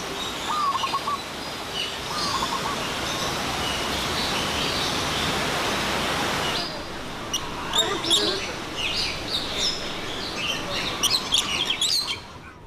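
Birds chirp and call in the Edward Youde Aviary, a large walk-through aviary over a natural valley in Hong Kong Park, with scattered tweets above a steady wash of background noise.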